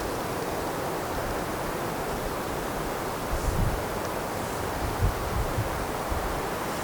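Steady broadband wind roars across the microphone, with low buffeting gusts swelling now and then; no one speaks.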